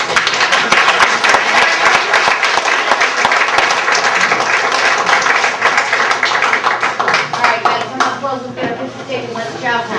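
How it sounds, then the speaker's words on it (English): A crowd at a Peotone Adopt A Soldier coining ceremony claps for veterans, a dense, lively burst of applause lasting about eight seconds before thinning out, with voices mixed in. "So let's have a round of applause for our vets."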